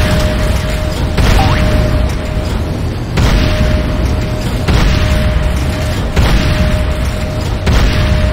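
Loud deep explosions rumble through in repeated heavy blasts as buildings are destroyed in Renegade, the Command & Conquer shooter, with a steady tone running underneath.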